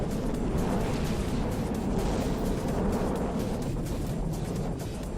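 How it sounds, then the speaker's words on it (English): Continuous heavy rumble of explosions battering a land castle during a From the Depths vehicle battle, dense, loud and unbroken for the whole stretch with no clear separate blasts. "Land Castle once again being rocked by explosions"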